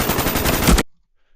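Rapid automatic gunfire from a first-person shooter video game, a loud close burst of shots lasting under a second that cuts off abruptly into silence.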